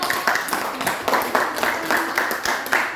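Classmates clap for a presenting student group in a classroom, a fairly close patter of several hands with uneven rhythmic bursts and no speech.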